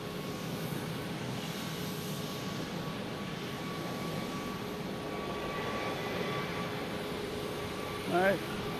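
An Airbus A321 landing at Boston Logan through fog and smoke rumbles steadily at a moderate distance, with a faint engine whine and voices talking nearby.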